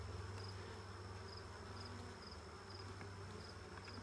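Buckfast honey bees buzz inside an open hive as a steady, faint, low hum that holds evenly throughout, without voices.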